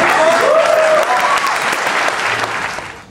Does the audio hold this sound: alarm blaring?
no